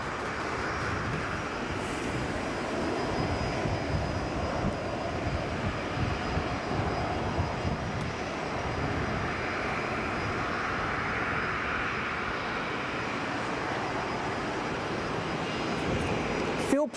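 An aircraft at Brisbane airport makes a sustained broadband engine roar, steady and moderately distant, holding level throughout with a faint high tone above it.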